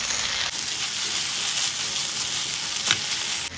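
Steady close sizzle of a bread snack mixture with oregano frying in a pan, stirred throughout, with one brief louder scrape near the end and no talking.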